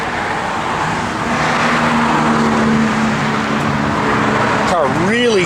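A 1972 Plymouth Road Runner driving on the road, a steady close engine drone and tyre roar filling the cabin, with a rising engine tone and a voice speaking near the end.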